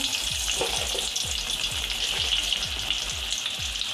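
Garlic fries in hot oil for a dal tempering, giving a dense, continuous sizzle with a steady crackle and a regular series of soft stirring knocks under it.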